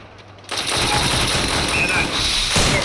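Gunfire in the mobile battle game Free Fire MAX: after a short quiet lead-in, loud rapid automatic fire bursts in and rattles continuously to the end.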